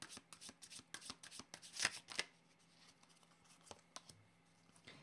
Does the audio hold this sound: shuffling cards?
yes